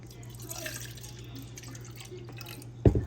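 Water poured into cups makes a faint trickling splash over a low hum, ending with a brief louder knock, as a voice speaks softly in the background.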